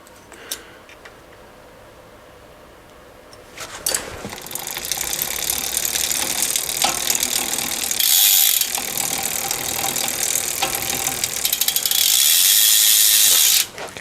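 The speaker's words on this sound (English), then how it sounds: "that's a loud hub." The rear freewheel hub of a handbuilt road bike with a SRAM AXS Force groupset ratchets loudly in a dense, rapid buzzing click that starts after a quiet stretch of faint mechanical clicks and runs steadily for about ten seconds.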